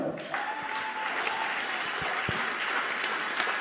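A church congregation at a Sunday service bursts into sustained applause, a steady wash of many hands clapping with a few sharper individual claps standing out and faint voices beneath.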